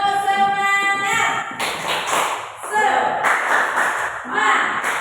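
A classroom of standing students doing a rhythmic group clap with chanted voices, sharp hand strikes in patterned bursts over about five seconds, loud and close, with kids' voices mixed throughout.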